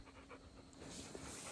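A hunting dog (Walker or black-and-tan hound) pants at a tree during a night hunt, quick faint breaths repeating close by in a quiet outdoor setting.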